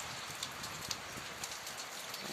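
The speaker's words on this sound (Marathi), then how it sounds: "कंटिन्यू असा पाऊस चालू आहे." Heavy rain that has kept falling for days pours down without a break, a soft, even, wash-like patter with occasional louder drops, heard from a distance and with no voices.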